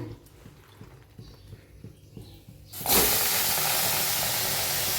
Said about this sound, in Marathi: आपण दोडक्याला भाजून घेऊया